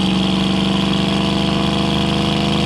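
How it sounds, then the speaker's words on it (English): A 1969 Ford Mustang with its original 302 V8, shorty headers and aftermarket dual exhaust idles steadily and loudly up close, a deep, even rumble with a fast, regular pulse and no voices. "The exhaust note, it has Shorty headers, aftermarket duals all the way out the back. It sounds killer."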